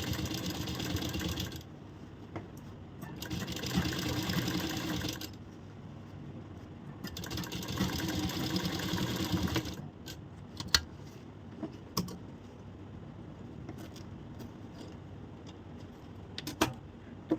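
A sewing machine stitches a blouse in bursts, two long runs of rapid whirring needle strokes close by, followed by quieter handling clicks and small taps.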